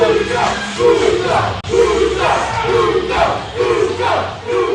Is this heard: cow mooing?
no